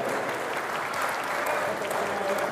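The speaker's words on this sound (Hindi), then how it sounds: "जोरदार तालियां" Audience at an international Urdu mushaira poetry recital in Muscat, Oman breaking into loud, sustained applause, a dense wash of clapping filling the room without pause.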